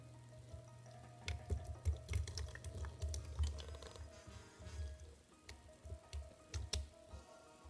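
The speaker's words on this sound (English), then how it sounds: "Now we're going to add our egg mixture slowly" Beaten egg mixture is poured slowly into a hot oiled pan, bringing soft liquid splashes and spits over a low steady hum, with irregular clustered bursts at close range.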